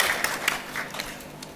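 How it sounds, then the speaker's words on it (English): Short burst of clapping from a small audience at a school board meeting, a few scattered hands with distinct claps fading quickly. "I think we should clap for that one."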